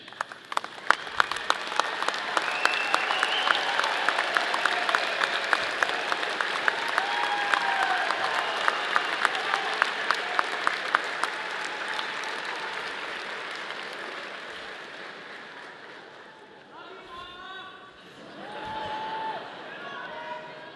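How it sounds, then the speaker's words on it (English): Graduation ceremony crowd in an engineering college hall claps in a sustained standing ovation, loud rhythmic applause with some cheering that thins out near the end as voices and shuffling take over. "give them a standing ovation for everybody in the crowd"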